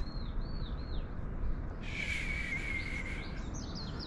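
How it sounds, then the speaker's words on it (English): Birds chirp and trill outdoors before sunrise in Itaewon, Seoul, with a bright sustained warble in the middle and quicker tweets at the start and end over a low ambient rumble. "You hear the birds?"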